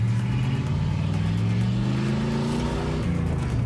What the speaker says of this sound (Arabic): هذه السيارة ترانزام موديل 1981